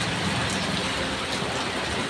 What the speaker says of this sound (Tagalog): Naabutan ng malakas na ulan.